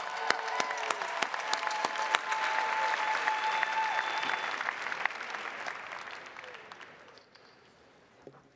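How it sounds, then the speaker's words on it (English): A large audience at the Heinz College 2024 commencement ceremony applauds the graduates, a broad steady wash of clapping with a few sharp nearby claps, swelling in the middle and fading away near the end. "Round of applause to everybody."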